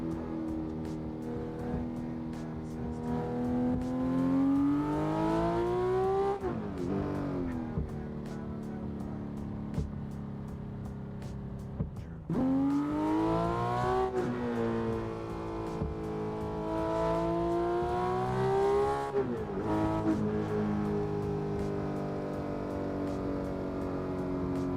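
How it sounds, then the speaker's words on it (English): Porsche 911 GT3 engine in the Assetto Corsa racing game, loud sustained revving that climbs through gears with sharp shifts and drops, continuous engine roar throughout with no talk. "Today I am driving the Porsche 911 GT3."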